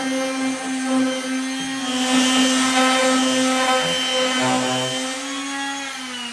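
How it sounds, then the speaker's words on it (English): Power sander running against the edge of a wooden art piece, a steady droning whine with a strong constant hum, rising slightly in intensity mid-way as it bites into the wood, heard alone. "So you want to sand this edge off, pull that color through"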